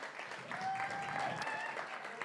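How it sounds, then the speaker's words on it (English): Applause from a live music venue audience after a performer's set, a steady dense patter of clapping with some crowd voices mixed in, filling the whole short stretch. "Give him a massive round of applause one more time."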